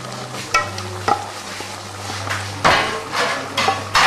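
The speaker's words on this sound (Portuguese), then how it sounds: "Depois do molho pronto, eu misturo esse creme de mandioca" A spoon stirs cassava cream into shrimp sauce in a pot, the stirring giving irregular scrapes and a few sharp knocks against the pot over a steady low hum, close and fairly loud, with no talking.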